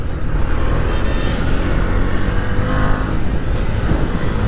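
A motorcycle weaving rashly through evening city traffic, its engine droning loudly and steadily with surging revs amid the surrounding rumble of cars.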